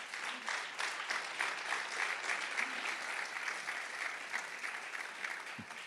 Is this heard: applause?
yes